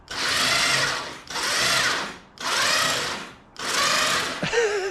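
An electric winch on a Toyota 4Runner pulls in four bursts of high, buzzing motor whine, each about a second long with brief pauses between, close and loud, followed by a short higher whine at the end.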